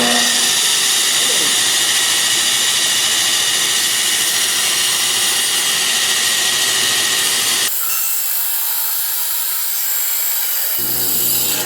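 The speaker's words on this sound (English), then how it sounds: "this blade guard had gotten where it was rubbing the back of the blade. And that's what was causing all the noise" A running saw on a sweetgum stump, its blade guard rubbing against the back of the blade, gives a loud, steady broadband whine and scrape that continues throughout and shifts abruptly in tone about two-thirds of the way through.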